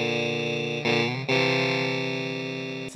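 Electric guitar run through a Hotone Krush bitcrusher and sample rate reducer pedal as the setting is turned up, a sustained note turning harsh, buzzy and lo-fi with a couple of abrupt shifts, close and alone.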